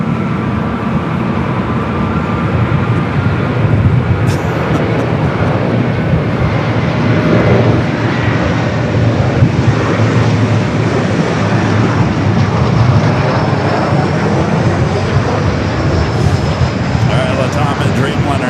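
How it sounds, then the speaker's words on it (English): A LATAM Boeing Dreamliner rolling down runway 24 Left at LAX, a loud, broad jet roar building along the takeoff run, with a voice talking over it. "Latam and Dreamliner now rolling down the 24 left."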